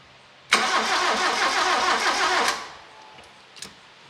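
An 80s turbo Toyota with pop-up headlights cranks on the key, a loud close whirring starter churn lasting about two seconds before cutting off, followed by faint clicks and hiss.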